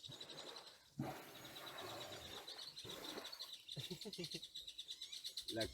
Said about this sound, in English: When we come, there's some bird was calling.